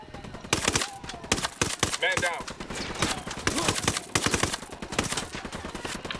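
Gunfire from the video game Ghost Recon Wildlands comes as rapid, sharp bursts and single shots in quick irregular succession, with a brief voice heard among them.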